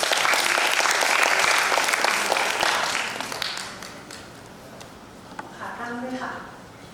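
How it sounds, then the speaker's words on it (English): Audience at a public speaking competition in Thailand applauding, with loud, dense clapping that fades out after about four seconds, followed by a brief voice. "Please give a round of applause to คุณชวรวิทย์เชื้อผู้ดี from สวนกุหลาบวิทยาลัย School."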